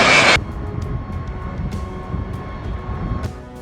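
Four-engine B-52 Stratofortress bombers at Guam during the Cope North exercise produce a continuous low engine roar and rumble. A loud broadband burst opens it, then the drone holds steady with faint clicks and higher tones above.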